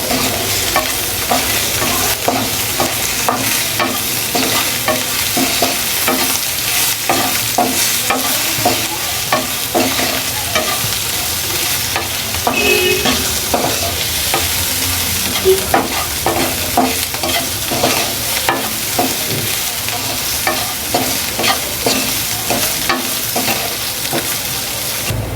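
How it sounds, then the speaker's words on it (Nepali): Potatoes frying with rayo saag in a pan, a loud continuous sizzle close up with a busy rhythm of spoon or spatula scrapes from steady stirring throughout, no talking. "अब म यसमा आलु एड गर्छु। मजाले भुट्छु म यसलाई।"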